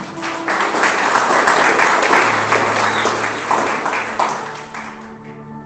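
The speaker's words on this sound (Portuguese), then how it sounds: "Você pode dar um aplauso ao Senhor Jesus?" An audience at a Christian church service applauds steadily and loudly for several seconds, a dense wash of claps that tapers off slightly at the end.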